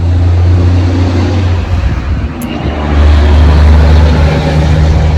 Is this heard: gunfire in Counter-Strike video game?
no